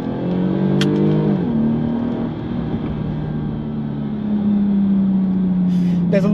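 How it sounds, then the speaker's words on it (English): A Jaguar XE S (X760) with a supercharged engine accelerates in manual sport mode, its exhaust rising in a strong, steady harmonic drone that climbs and then holds as the revs build. "There's a lot of exhaust sound."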